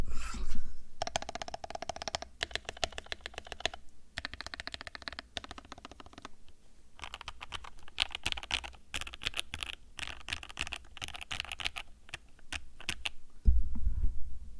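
Rapid clacky keystrokes from an HJ-75 mechanical keyboard, typed in quick bursts with brief pauses, close and clear, with no talking.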